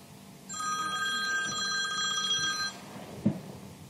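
An outbound call placed on the Mitel Phone Manager softphone produces a bright, clear electronic ringing tone lasting about two seconds, followed by a single soft click in an otherwise quiet room.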